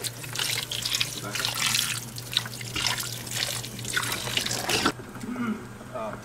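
Water runs from a tap into a pot meant for boiling frozen corn, a steady splashing stream that stops abruptly near the end, with a voice talking over it.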